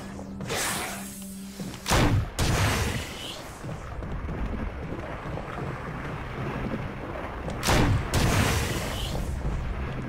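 A launcher weapon fires in Resident Evil 8, two heavy booming blasts several seconds apart, each followed by a roaring, rumbling tail under continuous game noise.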